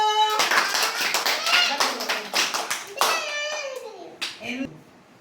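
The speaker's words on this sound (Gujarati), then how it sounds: "ચાલો તાળી પાડો" Children's voices chatter and call out while a burst of quick hand clapping breaks out, close and lively, fading toward the end.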